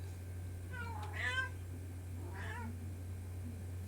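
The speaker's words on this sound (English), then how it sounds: "That's my cat letting me know that I need to feed her." A pet cat meows twice, the calls fairly close and distinct against a steady low hum, with a short pause between them.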